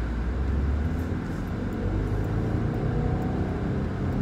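A 2015 Subaru WRX with manual clutch pulls away under light throttle, a steady low engine drone and road rumble heard from inside the car, moderately loud and even throughout.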